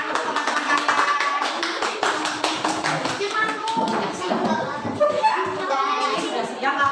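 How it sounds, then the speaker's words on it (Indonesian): Schoolchildren in a classroom clap for their classmates, a dense, steady patter of many small hands filling the room, with children's voices mixed in beneath the applause. "Tepuk tangan untuk teman-teman kalian."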